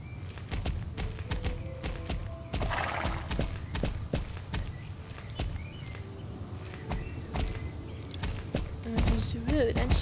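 Horse hooves clip-clop steadily while riding in Star Stable Online, an even walking rhythm mixed with game music and ambience, with a brief whinny-like sound near the end.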